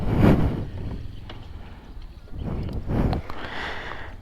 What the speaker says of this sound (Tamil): இதோட எக்ஸாஸ்ட் ஐடியல் சவுண்டெல்லாம் பார்க்குறீங்கன்னா